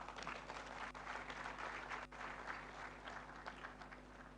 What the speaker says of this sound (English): Please, let's clap once again, Professor Charity Sylvia Kotia.